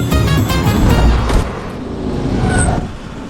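A car pulls up and comes to a stop, its engine rumble loud and close at first, then easing down as the vehicle settles, with a faint squeal near the end.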